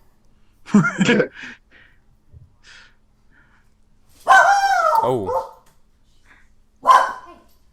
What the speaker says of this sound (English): Dog heard something weird.